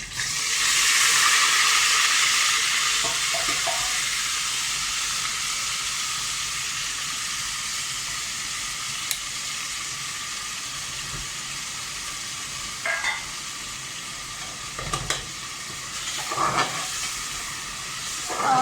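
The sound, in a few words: onion, ginger and garlic paste with whole spices frying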